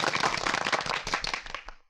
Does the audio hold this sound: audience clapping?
yes